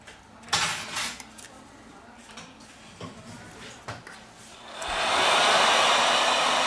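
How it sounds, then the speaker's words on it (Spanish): Small taps and clicks sound as a Xiaomi Redmi 7 phone is worked on, then a heat gun switches on and blows hot air in a steady, loud rushing hiss for the last couple of seconds. "Con la ayuda de una pistola de calor, aplicamos 90 grados centígrados, tiempo de 3-4 minutos"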